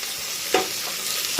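Onions frying in a pan for a Bihari-style mutton curry: a steady close hiss of sizzling oil with a couple of quick stirring scrapes.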